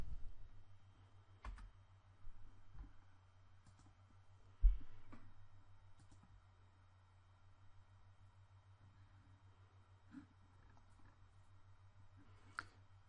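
Typing on a computer keyboard: sparse, faint clicks and taps scattered over a low steady hum, with one louder knock partway through and a few isolated keystrokes later.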